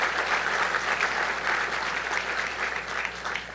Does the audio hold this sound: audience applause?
yes